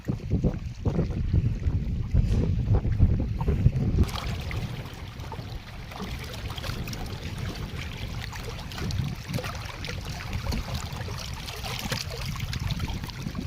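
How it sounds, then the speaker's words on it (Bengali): A strong river current and wind-driven waves rush and churn on a village river during hook fishing, a loud continuous roar with gusty buffeting against the microphone, heaviest in the first four seconds before settling into a steady wash. "দর্শক আজকে খুবই স্রোত নদীতে, আবার বাতাসের জন্য ঢেউ, প্রচুর ঢেউ উঠছে"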